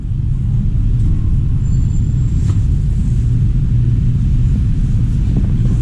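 A London bus on route 340 passes at Harrow on the Hill station, a steady, loud low engine rumble that holds throughout with no clear rise or fall.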